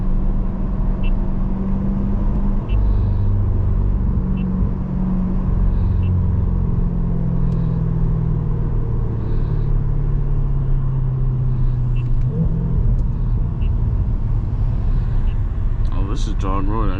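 A C8 Corvette driving in Sport+ mode, heard from inside the cabin as a loud, steady low engine drone and road rumble that shifts in pitch slightly, with a voice speaking over it at times.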